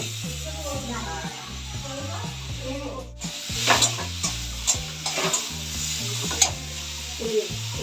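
Food frying in a pan during home cooking for a family ceremony, a steady sizzle with clattering stirring and scraping, mixed under a voice talking nearby.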